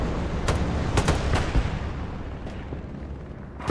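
Battle noise from the video game Hell Let Loose, set in Hurtgen Forest, with a rumbling backdrop and several distant sharp cracks and booms, ending in a louder blast where a rocket is fired at an enemy.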